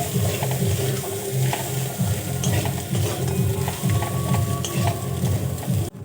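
Cabbage filling for Bengali-style cabbage rolls is stirred and mixed in a pan, giving steady rhythmic scraping strokes with a light sizzle underneath, close and fairly loud, with no voices.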